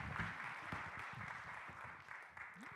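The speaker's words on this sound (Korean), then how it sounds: "하나님께 영광의 박수를 돌립시다." Applause from a church congregation after a scripture reading, a faint, distant wash of steady clapping with some low background noise.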